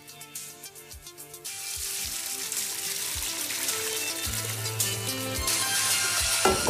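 Boiled ridged penne, cooked in fresh vegetable stock, being tipped into a strainer: a steady rushing pour of water hissing through the colander, growing fuller toward the end, with occasional low knocks of the pot.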